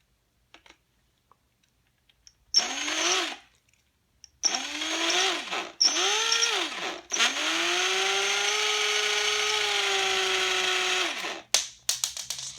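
A small electric screwdriver whirs in bursts, rising and falling in pitch, then runs steadily for several seconds while unscrewing nuts and screws from a Hori Myoungshin joystick part being converted to Fanta, with faint clicks between runs.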